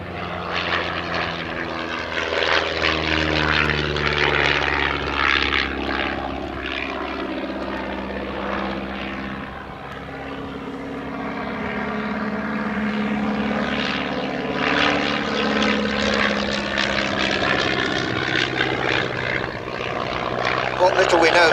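A de Havilland DH82A Tiger Moth biplane in Central Flying School colours drones overhead at an air pageant, its propeller engine loud and continuous with a wavering pitch as it passes, while a commentator talks over it.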